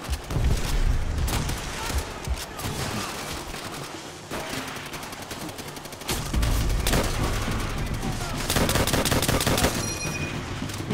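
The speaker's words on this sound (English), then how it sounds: "Oh man, somebody's shooting at me." Repeated bursts of gunfire from the World War II shooter game Call of Duty: World at War, loud and dense with rapid automatic volleys and single shots, continuing across the whole stretch with brief lulls and no clear talk.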